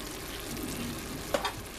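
A bean and corn dip with cheese sizzles softly in a cast iron pan, a steady quiet frying hiss with a brief scraping clink of stirring near the end.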